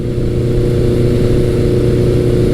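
A classic Suzuki GS1100 or Yamaha XS1100 motorcycle engine drones at a steady 60 mph cruise around 3,700 RPM, a loud, even low hum mixed with wind rush and no change in pitch.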